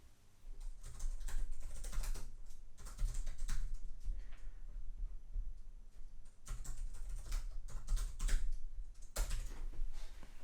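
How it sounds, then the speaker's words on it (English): Bursts of rapid typing on a Chuwi Hi10 Plus tablet keyboard, quiet and close, with light clicky taps coming in quick runs separated by short pauses. "I'll just have a quick little type on the keyboard and see how it feels."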